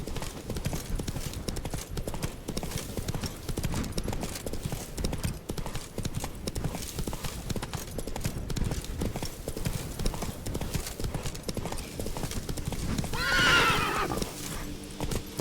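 A horse named Roach in The Witcher 3 gallops with fast, continuous clip-clop hoofbeats, then lets out a loud neigh near the end, close and under a faint background of other game sound.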